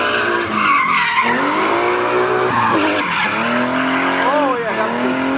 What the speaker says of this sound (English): Will he drift this?